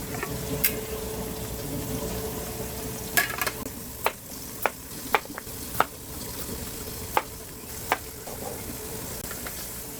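A pork chop frying in a pan, a close, steady crackling sizzle punctuated by a string of sharp spatter pops and clicks, with no voices.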